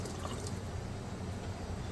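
Water poured into a pressure cooker holding mutton pieces for aloo gosht, a steady close, even wash of liquid pouring without pause.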